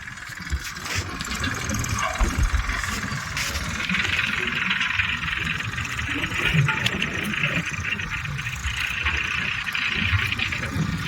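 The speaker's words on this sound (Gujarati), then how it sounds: "આવે ટ્રેક્ટર ખાતર ખાલી કરતો કરતું" A tractor engine rumbles steadily and continuously while unloading farmyard manure in a field, a mid-pitched drone holding even loudness throughout, close by, with possible faint voices beneath.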